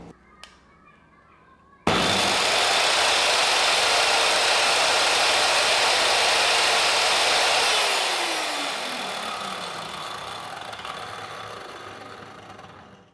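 A Besttools circular saw rated at 5000 RPM switches on abruptly after a quiet moment and runs at no load. Its loud, steady high-pitched whine holds close, then drops in pitch and fades as the motor spins down.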